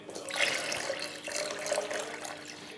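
Water is poured into lemon juice and sugar to make a syrup for soaking cake layers, a close, steady splashing trickle that runs alone without pause.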